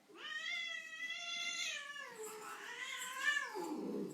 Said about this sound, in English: I'm going to grab a cat.